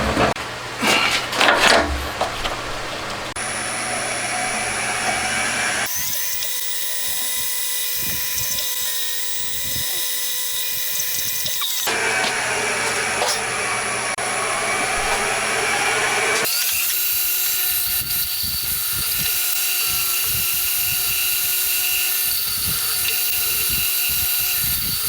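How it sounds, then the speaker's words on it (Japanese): A milling machine drills three holes into a gear for a 125cc twin-cam 16-valve four-cylinder engine build, giving a steady high whining cut with harmonic tones that stops and restarts, loud and continuous with no talking. "まずはギアの方に3箇所穴開けてきます。"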